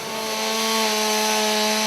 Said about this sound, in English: The chainsaws now come into play for ventilation and material removal.